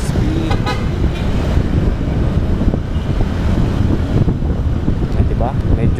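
Busy road traffic on C5 in the Philippines, a loud, steady rush of passing vehicles and heavy wind buffeting the microphone, with short car horn toots cutting through near the start and end.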